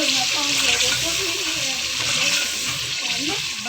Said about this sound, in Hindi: अब हम इसमें दही डाल देंगे, मिक्स करेंगे।